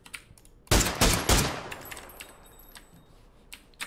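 A short rapid burst of gunfire in PUBG, three or four loud close shots in quick succession followed by faint echoing tail and light background noise.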